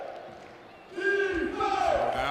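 Home crowd at a Moncton Magic basketball game against the Saint John Riptide, roused by the arena's PA announcer calling for defense: a drawn-out amplified call rises over a low crowd murmur after the first second and swells with crowd noise.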